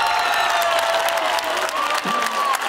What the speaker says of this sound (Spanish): Al vostre públic ahí, un aplaudiment per a elles!